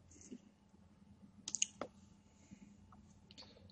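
Several crisp mouse clicks at a computer while working in Android Studio, a quick cluster of two or three near the middle and a few fainter ones later, close and fairly quiet over a low room hum.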